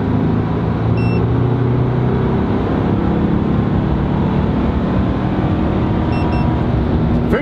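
A VW Amarok V6 pickup with Stage 1 software accelerates hard in third gear, a heavy, steady engine drone and road rumble building from inside the cabin, with a faint chime near the start and end.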